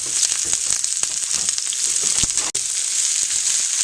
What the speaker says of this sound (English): Make sure you have a good sizzle in the frying pan while you're sauteing.